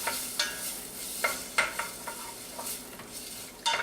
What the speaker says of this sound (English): I'm going to get these in here. Alright, we'll just give those a quick stir.